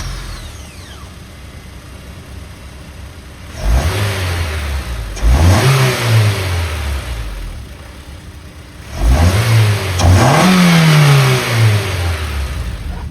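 Honda S2000 fitted with a Revel Medallion dual exhaust, idling and then blipped hard in three sharp revs that rise and fall, loud and close, with no talking.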